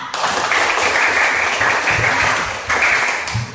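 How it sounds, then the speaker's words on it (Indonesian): Classroom applause: a dense, loud burst of students clapping together, continuous with a brief dip before picking up again, with no talking over it. "Tepuk tangan."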